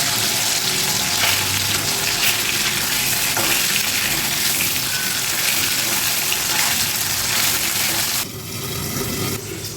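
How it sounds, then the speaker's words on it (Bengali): Rohu fish pieces fry in hot oil with a loud, steady sizzle and occasional stirring, then the crackle drops off near the end as the fish is lifted out. "মাছ ভাজা হয়ে গেছে এবার মাছগুলোকে আমি তুলে নিচ্ছি"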